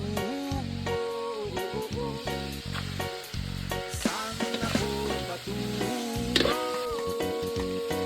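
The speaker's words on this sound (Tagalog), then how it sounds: "Luto kami ngayon ng dinuguan." Dinuguan, a pork blood stew, sizzling and bubbling steadily in a pan over a cooking fire outdoors in the mountains, with occasional stirring and scraping clatter.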